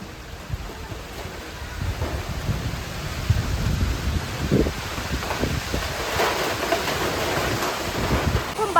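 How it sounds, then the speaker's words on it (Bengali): Heavy rain pouring during a thunderstorm with gusting wind, a continuous dense hiss that swells and thickens midway, steady and close throughout with no talk. "ঠিক এইরকম ঝড় বৃষ্টি হচ্ছে।"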